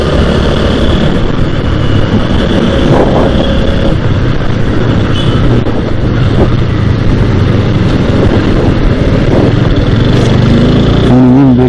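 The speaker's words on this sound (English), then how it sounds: "I can't believe the engine is so smooth." A TVS Apache RTR 160 4V motorcycle engine runs continuously and close while riding, a smooth, even buzz under strong wind rush, steady loud throughout.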